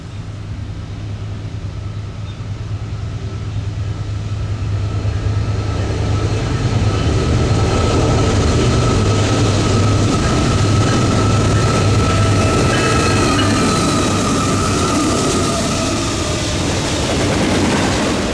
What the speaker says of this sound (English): the first train we saw was Norfolk Southern 27G heading west with a remarkable 4 engines on it